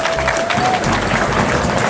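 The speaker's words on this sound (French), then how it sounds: "Vous applaudissez, je vous en remercie" A crowd applauds at an RDPC political rally in Bengbis, Cameroon, a dense, steady wash of clapping that holds loud and even throughout, with a faint voice briefly audible over it.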